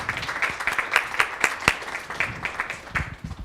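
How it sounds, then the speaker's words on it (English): Audience applause at a university lecture, a modest room of scattered individual claps with some sharp close hand strikes, moderately quiet and uneven. "Let's give him a round of applause again, please."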